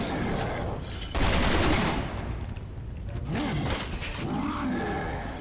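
Resident Evil 6 video game gunfire, bursts of rapid shots in a busy action scene, mixed with game sounds and roars.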